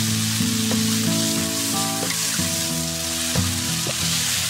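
Minced meat stir-fried in a wok with soybean paste, a loud, continuous close sizzle with scraping stirs and the tonal ring of the metal pan.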